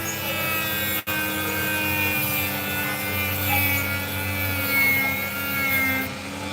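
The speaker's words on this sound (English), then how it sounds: "All I need to do is just carefully trim the parts until we get ourselves a nice shape." An opal piece is trimmed to shape on a grinding or cutting wheel, giving a continuous close rasping, rubbing whine with a brief break near the start.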